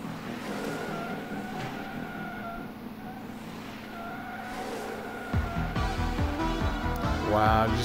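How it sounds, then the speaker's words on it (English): Race cars slide and skid in the retro racing video game Slipstream, engines droning steadily with tire squeal rising near the end, a voice faintly present underneath. "See me slide around those cars?"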